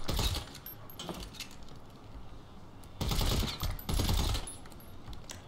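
Bursts of automatic gunfire in GTA V Online, rapid clattering volleys at the start and two louder bursts later, separated by quieter stretches of rattling shots.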